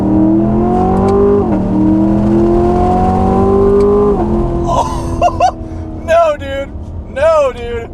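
An extremely loud C7 Corvette accelerates hard on a mountain road, engine note climbing with quick dips at each gear shift, then dropping as excited voices talk over the fading engine.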